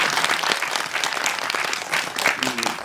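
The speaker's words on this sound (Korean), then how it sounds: "두 분의 우정에 큰 박수 한번 부탁드리겠습니다." Audience applause at a Korean film screening talk event, a dense, steady wash of many hands clapping close by for the full length, with a brief murmur of voices near the end.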